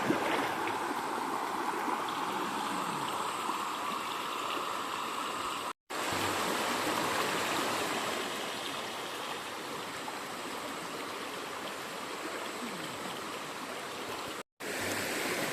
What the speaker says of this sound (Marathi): हा व्हाळ आहे, नद नाही आमच्याकडे, ह्याला व्हाळ बोलतात.